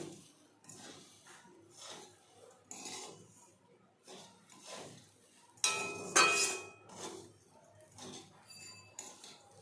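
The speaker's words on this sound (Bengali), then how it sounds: "জল দিয়ে অনবরত নাড়তে থাকতে হবে, যাতে কোনো অংশ দলা না পাকিয়ে যেতে পারে।" A spoon scrapes round a pan as semolina and water are stirred together, a steady series of soft rasping strokes with a few sharper metallic clinks partway through.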